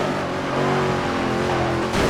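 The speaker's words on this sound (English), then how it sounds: "I'm running a Cadillac CTSV and Diamond Blue with level 1 upgrades" A Cadillac CTS-V engine in the racing video game Midnight Club 3 drones and revs continuously at close range, with a steady harmonic whine and no talking.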